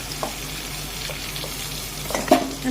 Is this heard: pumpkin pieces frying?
yes